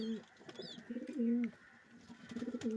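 Giribaz pigeons coo in low, throaty, rolling phrases, several close together with short gaps, near and clear against a quiet background.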